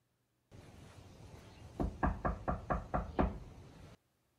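Knocking on a door, seven firm raps in a steady even rhythm, close and clear against a quiet room, with no talk.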